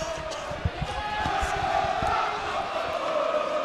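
Crowd at a high school basketball game between Regis Jesuit and Douglas County, cheering for the Raiders: a sustained roar of many voices swells and holds, with a few sharp thuds and shouts inside a large gym.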